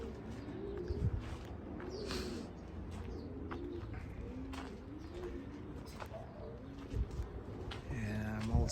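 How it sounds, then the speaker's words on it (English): Pigeons cooing close by, repeated soft throaty coos in a loose rhythm, with occasional chirps and faint background noise and no speech. "I'm also into pigeons, raising pigeons."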